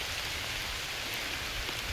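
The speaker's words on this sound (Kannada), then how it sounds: "ಮಳೆ ತುಂಬ ಜೋರೇ ಆಗೋಯ್ತು" Heavy rain pouring down steadily, a dense continuous hiss of drops on surfaces with no breaks and no talk.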